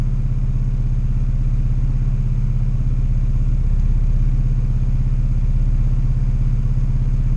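An LS-based VTEC engine idles on a dyno during tuning, a steady low rumbling drone with an even pulsing throb, close and constant throughout with no voices.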